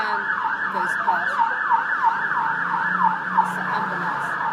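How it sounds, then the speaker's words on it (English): An ambulance siren wails in a steady, repeating yelp-like sweep, moderately loud and continuous against low road rumble as the vehicle passes by. "It's the ambulance."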